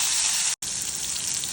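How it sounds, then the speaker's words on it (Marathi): Tomato hitting a hot oil tempering of crackled cumin in a kadhai, a loud continuous sizzle close up with a brief dropout partway, no talking. "जिरा तडतडला ना की मी थोडस टोमॅटो घालते फोडणीत."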